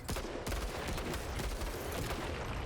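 Gunfire in the tactical video game Menace, a sustained burst of automatic and overlapping shots at steady loudness, a crackling fusillade with no voices over it.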